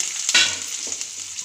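Mustard seeds, garlic, onions and curry leaves sizzle steadily in hot oil for a sambar tempering, with a brief stirring scrape near the start, heard close up and with no talk.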